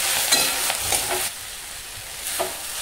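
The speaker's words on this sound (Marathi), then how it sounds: "पात आणि तिखट एकदम छान असं तेलामध्ये परतून झाले" Spring onion greens and red chili powder sautéing in oil, a soft close sizzle broken by a few quick scraping stirs, louder at first, then dropping to a low hiss before one last stir.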